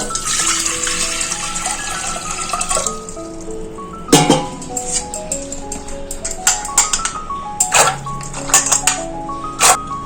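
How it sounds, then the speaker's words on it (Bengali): Water pours into a pressure cooker holding chana dal, a splashing gurgle with clinks of metal and a brief surge partway through, followed by scattered knocks and taps of the cooker. "এই প্রেসার কুকারের মধ্যে জল দেবো"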